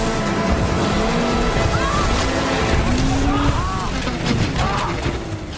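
A ship manoeuvring at sea to throw waves at an approaching small boat, with continuous engine rumble and rushing water plus faint rising tonal sweeps, heard under speech.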